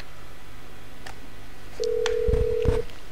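A phone being dialed in the video game GTA 5 Online: a few quiet beeps, then a steady held dial tone with a cluster of sharp keypad tones over it, close and fairly quiet, with no talk.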